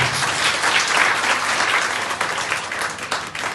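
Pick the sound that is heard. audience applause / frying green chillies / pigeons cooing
audience applause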